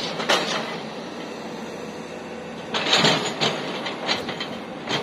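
Train rolling into a station platform, a steady rumbling roar with rhythmic clacking bursts as cars pass over rail joints, loud and close.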